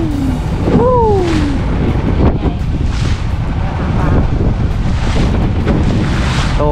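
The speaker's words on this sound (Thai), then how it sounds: "ลมกำลังดีคลื่นก็แรง" Wind buffets the microphone at sea with strong waves, a continuous loud roar of gusts and surf, with a brief voice-like sound early on.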